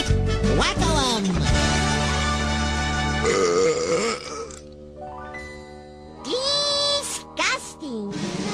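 A cartoon character lets out long, loud, drawn-out belches with a tonal, croaking quality, several in succession separated by brief pauses.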